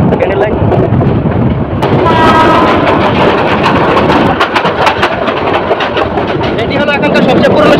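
Chottola Express, running Dhaka to Chittagong, rounds a bend and crosses a railway station, loud and close, with rattling carriages and clattering wheels over rail joints and a brief horn, wind buffeting the microphone and some talk underneath.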